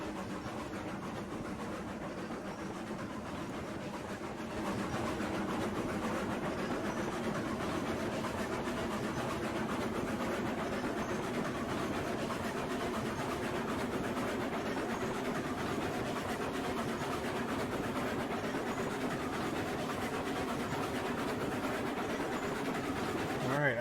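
A long freight train rolling along in the Railroads Online game produces a continuous steady rumble and rolling drone that swells slightly after the opening seconds and then holds evenly throughout.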